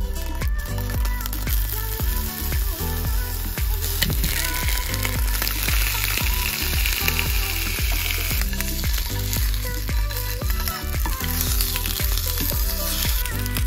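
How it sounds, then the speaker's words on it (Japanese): Food bought at Costco frying slowly in a pan over low heat, a steady close sizzle with soft crackles and pops running throughout, with no talk. "弱火でじっくり焼き上げました。"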